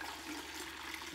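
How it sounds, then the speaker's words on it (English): Fermented ginger kombucha poured from a vessel into a container: a faint, continuous trickling liquid stream, steady and soft throughout, with no talk over it. "Now I'm gonna pour some of this over"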